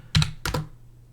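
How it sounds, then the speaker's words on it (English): Password typed on a computer keyboard, two quick close pairs of key clicks with a short pause between them, alone. "I was typing in what I thought was the right password"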